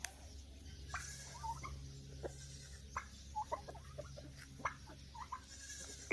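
Farm animals, chickens among them, roam freely around a rural farm, a faint mix of scattered clucks and squawks at a distance over low background noise.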